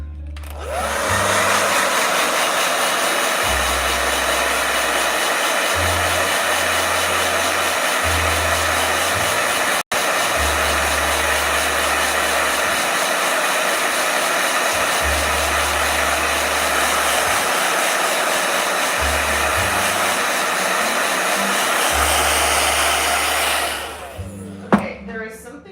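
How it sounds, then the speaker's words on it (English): A hair blow dryer runs as one loud, steady, continuous rushing roar for about twenty-four seconds, then cuts off abruptly near the end. "Blow dryer."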